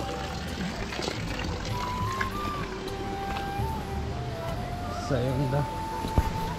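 Steady splashing water pours from a stone spout (dhara) in Dharan's Shram Sanskriti Park in Nepal, a continuous wash of flow heard close by beneath people talking.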